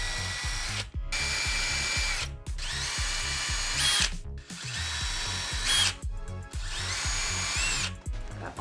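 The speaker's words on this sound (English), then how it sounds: "Let's drill some holes." A power drill bores holes for small brass hinges on a thrifted artwork jewelry cabinet, several close, loud whirring bursts with short pauses between them and a rapid rhythmic chatter under the motor whine.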